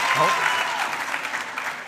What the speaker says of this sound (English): Hold your applause, only because of time